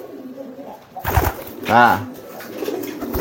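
Pigeons give a single low, resonant coo close by, preceded by a brief fluttering rustle, while someone speaks briefly over soft background noise.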